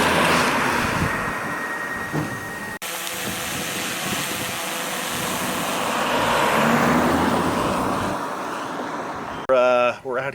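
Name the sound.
4-cylinder Honda Civic driving for car chase footage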